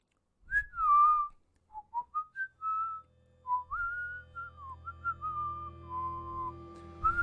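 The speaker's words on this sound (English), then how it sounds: "I think it was a whistle." Melodic whistling approaches along a corridor, a lone tune of rising and falling phrases that grows louder as it nears, with a low hum underneath.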